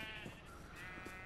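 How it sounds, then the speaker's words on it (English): A single sheep bleats in Minecraft, a faint wavering, nasal call held for about a second against a quiet game background. "Bunch of multicolored sheep."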